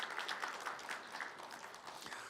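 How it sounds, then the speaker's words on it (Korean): A congregation at an early-morning church service applauds the choir with a faint, distant patter of steady clapping for a couple of seconds. "우리 성가대마다 뭐 어젯밤에 한 거지만 뭐 오늘 새벽에 격려의 박수 한번 해주십시다."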